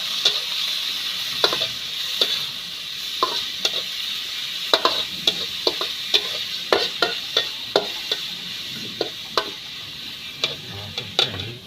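Red ant eggs being stir-fried in a pan with basil: a steady sizzle under a run of sharp utensil clicks and scrapes against the pan, close and fairly loud.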